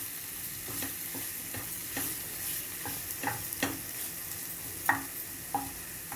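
Chopped tomatoes sautéing in a pan for chicken kofta curry masala, a steady soft sizzle under repeated scraping stirs of a spoon, with several sharper clinks against the pan; no talking.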